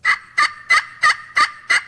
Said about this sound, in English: another mistake I see is pot call. They just drag the striker up and down.